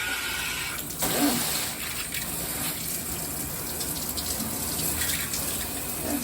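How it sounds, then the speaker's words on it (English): Water spraying hard from a new multi-setting shower head, a steady rushing hiss with a brief surge near the start, up close and without talk. "That sprays out really fast. That's some good water pressure."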